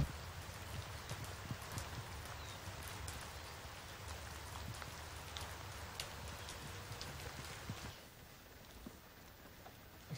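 Rain patters steadily on a roof, a dense close hiss of drops with scattered louder taps, quietening slightly near the end.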